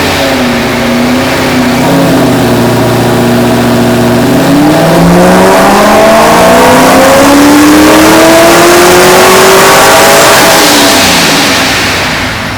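A supercharged Corvette Z06 engine revs loud and close, its pitch climbing through several rising sweeps before holding high and then dropping away, with no talking over it.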